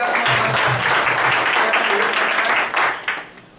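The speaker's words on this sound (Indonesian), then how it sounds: "Ya, tepuk tangan untuk kita semua." Audience applause at a Prudential gathering, loud and dense, clapping close and steady for about three seconds before thinning out, with voices mixed in beneath.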